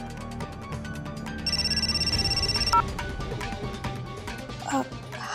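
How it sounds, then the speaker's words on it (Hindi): A telephone rings in a short, steady electronic trill lasting about a second during a Hindi TV drama scene, set against busy background sound. "अनुराधा, इतना टाइम क्यों लगा दिया फोन उठाने में?"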